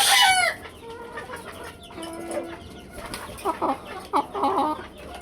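Chickens, including young birds about three and a half months old, clucking and calling close by, a high crow-like call at the start followed by scattered clucks and bursts of chatter, no speech.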